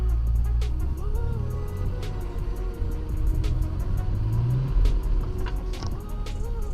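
A Mercedes under restoration drives after its engine is restarted, a steady low engine rumble with slight revving and rattles heard from close inside the car.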